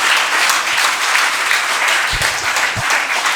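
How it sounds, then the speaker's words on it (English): Steady, dense audience applause fills the hall as retired IAS officer Dr. D. Chakrapani is welcomed onto the stage at a student interaction event, loud and continuous throughout. "Please continue the applause."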